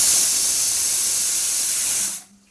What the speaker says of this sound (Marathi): गॅस फास्ट ठेवायचा आणि आपण 4 शिट्ट्या करून घेऊया